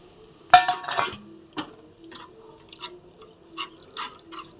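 Food is stirred in a cooking pot, with a sharp metallic clatter at the start followed by scattered, fairly quiet clinks and scrapes of a utensil against the pot.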